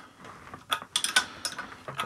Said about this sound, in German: Dann werden wir jetzt hier die selbstsichernde Mutter darauf drehen.